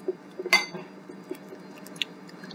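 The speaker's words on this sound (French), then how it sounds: "Alors on mélange jusqu'à temps que l'huile d'olive soit absorbée par les poudres et les blancs d'œuf" Olive oil being stirred into a financier batter of powders and egg whites, giving soft wet squishing and scraping with a few sharp clinks of utensil against a bowl, close and fairly quiet.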